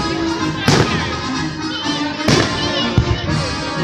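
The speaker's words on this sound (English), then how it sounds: "known all over the world for their fireworks" Fireworks display by Pyrotechnico at Westminster College in New Castle, Lawrence County: three sharp, loud bursts, near 0.7, 2.3 and 3 seconds, crack over a steady hiss of crowd and ambient noise.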